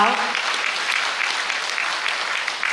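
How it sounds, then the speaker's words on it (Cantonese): A concert audience at a celebratory school teachers' choir performance claps loudly and steadily throughout, a dense wash of applause with a voice audible at the very start. "我哋再次以熱烈嘅掌聲感謝呢一群青春不老嘅歌手"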